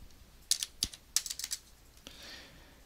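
Keys clatter on a computer keyboard as a value gets entered: a quick run of crisp, close taps in two short bursts, then a faint rustle, with no talk.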